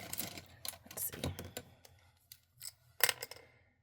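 Scissors snip off excess from a wax seal craft piece, giving several short, crisp clicks and cuts spread unevenly, quiet and close, with some faint handling noise between them.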